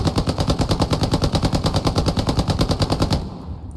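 A British 9mm submachine gun in the video game Hell Let Loose fires one sustained burst of rapid, evenly spaced shots for about three seconds, loud and close, then stops with no speech.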